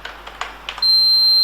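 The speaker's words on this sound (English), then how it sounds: "Yeah, you may be hearing this buzzer sound." A buzzer wired to an Arduino and switched on through Python pyFirmata gives a steady, continuous high-pitched tone that starts abruptly and holds without a break, after a few faint clicks of typing.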